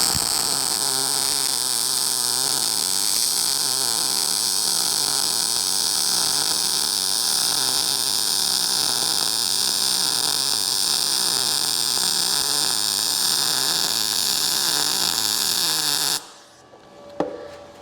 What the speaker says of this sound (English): This machine welds really nice.